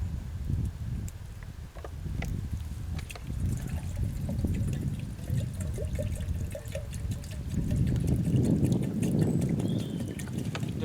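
Water pours steadily into a pot set to boil for coffee outdoors, a soft continuous trickle and splash that grows fuller toward the end, with faint background noise.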